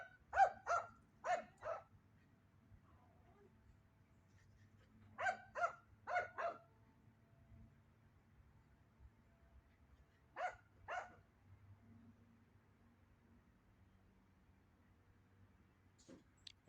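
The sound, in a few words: dog barking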